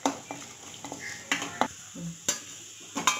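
Small pieces of cut cashew stirred in hot ghee in a pan: a spoon clinks and scrapes against the metal in scattered, irregular taps, quiet and close, with no steady sizzle.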